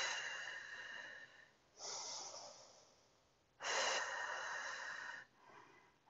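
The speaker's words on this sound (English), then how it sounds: "Easy breathing in through the nose and out through the mouth." Slow, calm breathing during a beginner Pilates class, in through the nose and out through the mouth, heard as two long soft airy breaths with quieter pauses between, close and alone.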